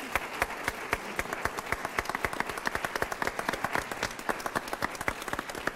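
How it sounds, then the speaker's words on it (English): An audience applauds a response panel at a school event: dense, steady clapping from many hands fills the whole stretch at an even level, close and continuous. "I'd like you to give them a round of applause"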